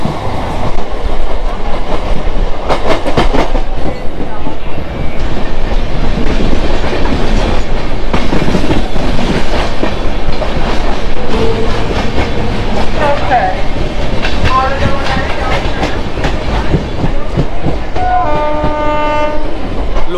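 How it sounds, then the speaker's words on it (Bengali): A local train running from Howrah to Tarakeswar rumbles loudly with rhythmic clickety-clack of wheels on rails, and a horn sounds in repeated tones near the end, with some talk underneath. "লোকাল ট্রেনে করে একবার তারকেশ্বর জার্নিটা করি"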